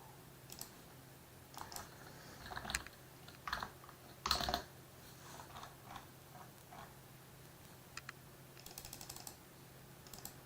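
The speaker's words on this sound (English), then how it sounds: "Just typing in some other tickers here." Sporadic bursts of clicking keystrokes on a computer keyboard, some brief flurries and single taps spread over ten seconds, fairly quiet and close, with no talk.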